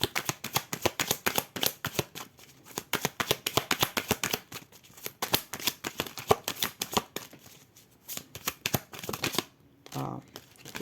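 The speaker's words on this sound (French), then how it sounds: "Je vais prendre une carte de l'oracle des contrats d'âme." Soul contract oracle cards shuffled by hand in steady rapid bursts of riffling and flicking, close and fairly loud, pausing briefly near the end, while a voice speaks at moments.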